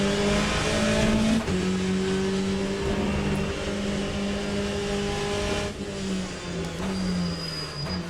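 A Corvette race car in Le Mans Ultimate roars at high revs, its engine tone droning steadily with brief dips and rises as it shifts and brakes, loud and close throughout with no talk.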